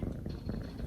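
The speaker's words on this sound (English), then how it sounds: "Can you hear them purring?" Young kittens purring in someone's arms, a soft, continuous low rumble that is close and steady, with no talk over it.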